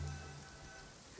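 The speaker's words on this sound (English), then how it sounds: "It's raining again?" Rain falls steadily in the video game Genshin Impact, a soft continuous patter on surfaces that stays faint and even, with no speech.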